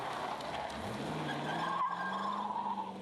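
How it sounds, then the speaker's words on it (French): A Chevrolet Corvette C5 V8 rumbles steadily from a 2000 road test, its engine tone rising as the car gathers speed, with a tire squeal or skid layered over it, no talk. "en se laissant imprégner des borborygmes émis par le moteur."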